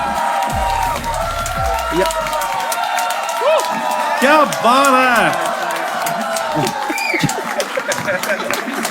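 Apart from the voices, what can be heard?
audience applause and cheering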